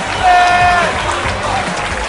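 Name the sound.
crowd applause at MMA fight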